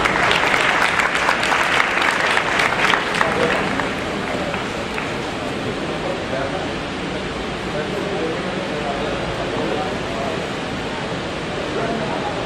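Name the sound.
audience applauding at a school association event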